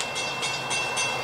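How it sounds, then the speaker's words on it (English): A CSX or Amtrak train rolls past at close range, a steady loud broadband rumble with rhythmic surges of wheel and car noise throughout. "here comes another train."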